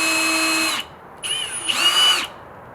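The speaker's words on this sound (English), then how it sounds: "Oh, I gotta drill holes." A power drill bores holes partway into a handmade craft star, with one steady high whine followed by two more whirring bursts after a short pause, loud and close.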